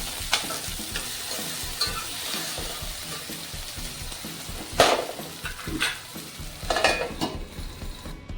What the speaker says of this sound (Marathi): लसूण हळद आणि थोडंसं कढीपत्ता थोडासा व्यवस्थित शिजून घेणार